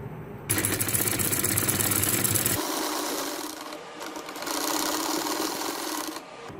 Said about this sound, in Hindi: यहाँ से सिलाई करने लगी हल्की सी